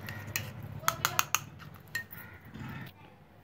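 A spoon clinks against a bowl while mixing a homemade face cream, giving a handful of sharp, close taps in a loose rhythm over a soft background rustle.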